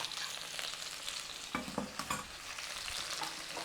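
Garlic and ginger fry in oil and ghee in a pan for a chicken rogan josh, a steady close sizzle broken by a few scraping stirs near the middle.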